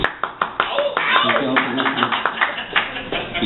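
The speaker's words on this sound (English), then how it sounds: "Yeah, everybody clap." Audience at a poetry reading in the Lava Lounge claps in quick sharp bursts, fairly close, with voices talking and murmuring throughout.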